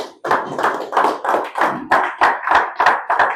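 A church congregation applauds in steady rhythmic unison, with about a dozen even, loud claps that carry a warm, roomy quality and no talking over them.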